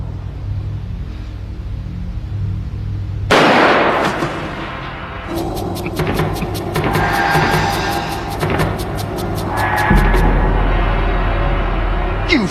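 Gunfire in a Hong Kong action comedy film scene, a sharp burst followed by a stretch of rapid repeated shots over a low rumbling background, with no speech.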